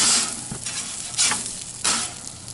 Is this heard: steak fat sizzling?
yes